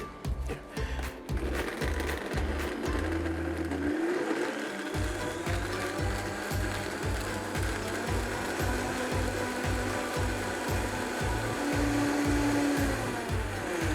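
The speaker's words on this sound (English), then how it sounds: "Now we blend until it's coming puree and liquid." A blender motor whirs steadily for about fourteen seconds, loud and close, with a low pulsing chop as it purees a prune and lime dressing; a brief slowdown early on, then constant running.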